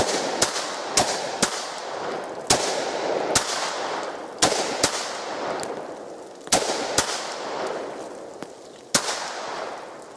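Sharp gunshots ring out at a shooting competition, about a dozen reports in an irregular string over ten seconds, each loud and close with a decaying echo tail, with no voices between them.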